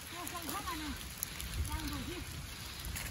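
Heavy rain falling steadily on a muddy trail up to Jamacho Gumba, a soft continuous hiss of drops under intermittent voices speaking nearby.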